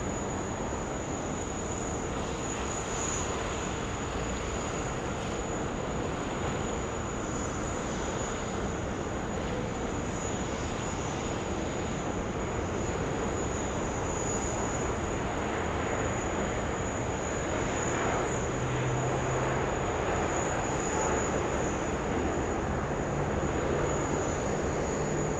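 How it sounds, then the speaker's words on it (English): A Dash 8 turboprop lands at an Australian airport, a steady broad engine drone with a sustained high whine running throughout, moderately loud and even, with no voices. "that Dash 8 is safely landed"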